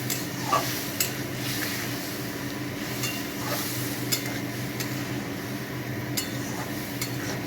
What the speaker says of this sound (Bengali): এখানে কষানোর জন্য একটু জল দেওয়া হলো, ভালো করে কষানো হবে।